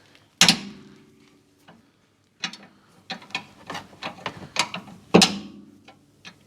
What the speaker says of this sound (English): Now with your 14mm spanner, I've got the offset spanner here. Just put it on the nut, just see if you can crack it initially.